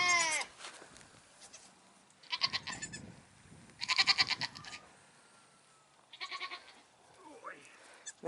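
Baby goats bleat indoors in a house, several repeated wavering cries coming in bursts, some close and loud, with people talking in the background.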